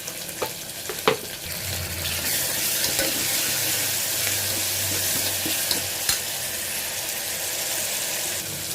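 Onion and tomato with salt fry in a pot for a field bean curry, giving a steady, dense sizzle that runs unbroken throughout, with a few faint utensil knocks near the start.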